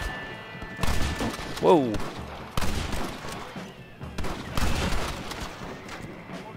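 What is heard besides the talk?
gunfire in video game Red Dead Redemption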